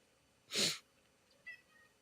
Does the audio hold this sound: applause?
no